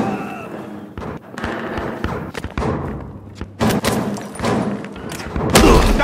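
Video game gunshots crack out as a series of irregular, punchy bangs and thuds, some close and loud, with heavy impacts scattered through a busy combat mix.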